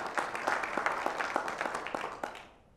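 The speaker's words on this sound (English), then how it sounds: "So give yourselves a round of applause for that effort as well." A hurricane seminar audience in Cape Coral breaks into applause, crisp individual claps from a modest crowd, fairly close and even, fading out quickly at the end.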